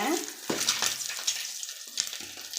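Boiled whole eggs browning in a pan of oil, a close crackling sizzle broken by sharp spatters and scraping bursts, uneven and intermittent over a quieter background.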